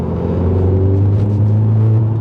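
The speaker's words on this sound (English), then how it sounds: "So I'm doing about 40 miles an hour, 4th gear, put the foot down" An Audi S3 (8V) accelerating hard in fourth gear from about 40 mph, a loud, close, steady low engine drone building through the whole stretch with no talking.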